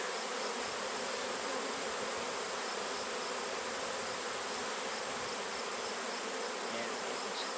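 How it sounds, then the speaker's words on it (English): A large honey bee swarm buzzes loudly and continuously all around, a dense steady hum with no break, the insects close and filling the whole scene. "That's a lot of bees."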